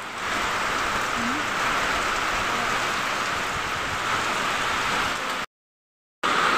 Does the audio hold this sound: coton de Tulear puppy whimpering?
no